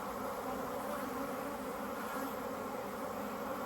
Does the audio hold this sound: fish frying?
no